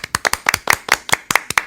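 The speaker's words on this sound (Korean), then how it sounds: "박수!" A few people in a sports talk show studio clap in a quick, irregular run of sharp, close hand claps, roughly a dozen crisp strikes in under two seconds.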